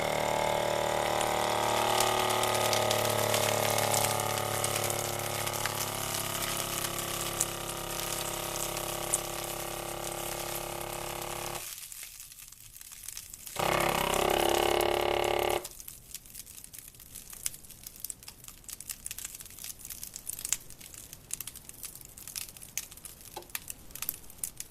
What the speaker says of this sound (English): Now I'm going to hit the vac and seal button.